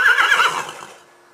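A draft horse neighs close by in one loud, quavering whinny that tapers down and fades out within about a second.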